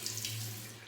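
A bathroom tap runs steadily into a sink as a razor is rinsed during a wet shave, a close, even stream of water with no talking.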